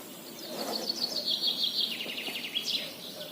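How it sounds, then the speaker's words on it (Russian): Birds sing in the morning at a camp beside a river, a few bright chirping trills repeating close by over a quiet outdoor background. "Птицы в речном походе это вообще просто неотъемлемая часть похода."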